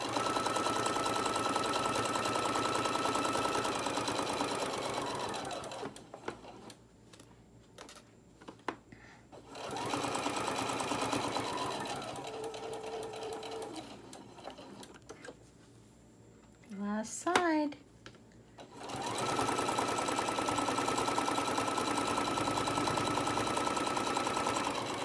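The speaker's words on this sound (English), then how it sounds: "I'm gonna back stitch, make sure my stitching stays in." A sewing machine stitches fabric hot pads in steady buzzing runs with pauses between them, including a short back stitch, loud and close; a voice talks during the quiet gaps.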